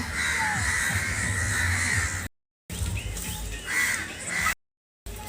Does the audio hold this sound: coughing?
no